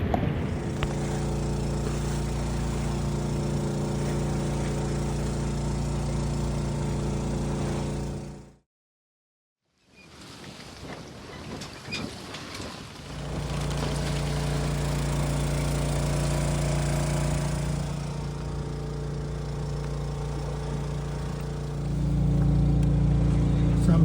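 A sailboat's inboard engine motors steadily at about four knots in calm open ocean, a loud continuous drone that cuts out briefly midway and then resumes at the same level.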